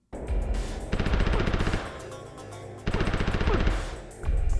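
Rapid machine-gun bursts fire at Jax, whose arms are made of metal, as he blocks in a Mortal Kombat fighting game; two loud, dense rattling volleys are separated by a short, quieter pause, with no talking over them.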